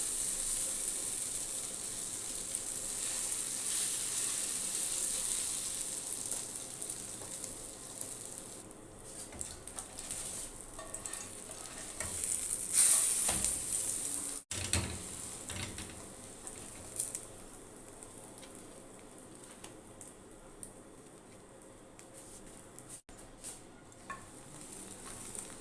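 Spicy bread omelette frying in a pan, bread and egg pressed and turned, with a soft continuous sizzle and hiss, occasional faint scrapes and clicks, quiet and unvoiced.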